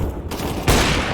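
Gunfire in the Counter-Strike video game, with Astralis AWPer Device in play: a sudden loud burst of shot sound about two-thirds of the way through, set against continuous game ambience.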